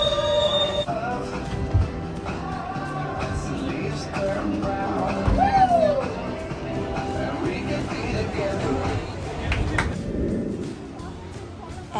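A New York City train runs along its rails, with a rumbling roll, rising metallic wheel squeals and a sharp screech midway, while people talk over the noise inside the car.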